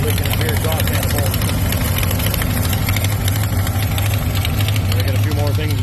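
A 1983 International S1724 dump truck engine idles steadily with a deep low rumble and a rapid ticking, puffing rhythm from a leaking exhaust manifold, constant and close, with a voice talking over it.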